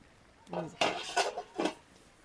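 A pot lid is lifted on a simmering sweet gourd curry with dried fish: a few close metallic clanks and scrapes of cookware in a quiet kitchen.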